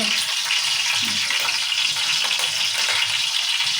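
Dried red chillies fry in hot oil in a home kitchen while a fish curry is being prepared, giving a loud, steady, close crackling sizzle with no break and no voices.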